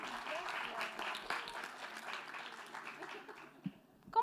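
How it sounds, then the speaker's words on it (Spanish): Classroom applause for a student named Sofi after an illustration activity, a brief soft round of clapping from a small group at low level, fading out toward the end with a voice and a few sharp knocks. "Un aplauso."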